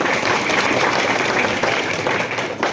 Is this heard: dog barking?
no